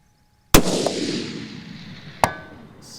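A rifle topped with a Zero Tech Trace ADV 4.5-27x50 scope fires one loud, sharp shot outdoors that rings and decays, followed by a fainter metallic clang about two seconds later.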